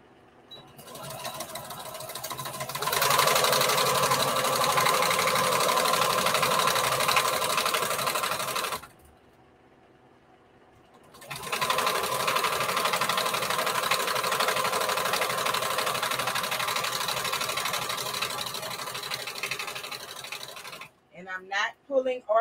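A sewing machine stitches fabric for a patchwork bandana dress, running in two long steady bursts with a short quiet break between, close and loud, and some handling noise at the end.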